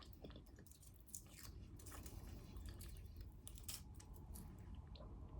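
Someone chewing white and milk chocolate close to the microphone, with soft wet squishing and small crunchy bites repeating irregularly, quiet and intimate, with no talking.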